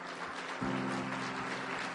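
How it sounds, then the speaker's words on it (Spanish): A church congregation applauds in praise after a prayer, a soft steady patter of clapping with a sustained tonal hum underneath. "Demos un aplauso de alabanza a nuestro Señor."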